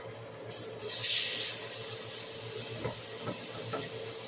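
Onions hiss and sizzle in a hot pan, a brief surge of steamy frying noise early on settling into a steady low crackle with a few soft knocks near the end, no talking.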